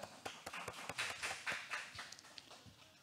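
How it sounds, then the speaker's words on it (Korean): Sparse clapping from a small audience at a Korean art-technology business presentation event, a handful of distinct, uneven claps that peak and then thin out over a few seconds, fairly close and without speech. "여러분 박수로 만나보겠습니다."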